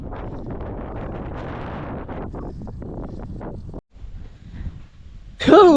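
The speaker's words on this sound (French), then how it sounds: "Il y a pas mal de vent, je sais pas si ça s'entend." Blustery wind buffets the microphone in heavy, rumbling gusts while cycling outdoors, dropping briefly to quieter rustling before a sudden loud burst at the end.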